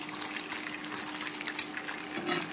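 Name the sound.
fish pieces frying in oil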